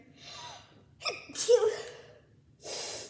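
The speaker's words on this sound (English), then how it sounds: "I'm gonna sneeze again." A sharp sneeze bursts out after a drawn-in gasp, followed a second later by a breathy exhale; close and loud, no talking.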